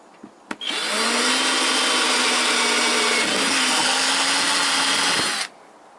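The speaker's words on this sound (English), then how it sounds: "to drill that hole" A power drill whirs at a steady high pitch for about five seconds, starting abruptly after a couple of clicks and stopping sharply.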